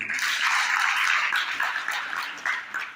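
Dense, loud audience clapping fills the room at a census awareness session, a continuous roar of many hands that eases slightly toward the end.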